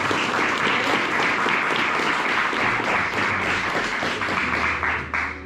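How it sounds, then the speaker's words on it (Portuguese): A church congregation at a thanksgiving service gives a round of applause, loud dense clapping filling the room steadily for about five seconds before easing slightly at the end. "Você pode dar uma salva de palmas?"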